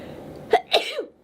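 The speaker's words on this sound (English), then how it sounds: "oh, I have to sneeze." One person gives a single short sneeze with a sharp double burst, up close in a quiet room.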